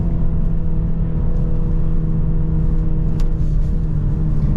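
A 2022 BMW Z4 2.0 sDrive convertible driving over a bumpy road, heard as a steady, loud low rumble of engine and road noise that stays even throughout, with no talking.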